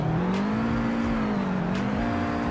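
Car engine in the Roblox game Greenville revving with a steady droning hum that rises and falls slightly in pitch, loud and constant with no talking.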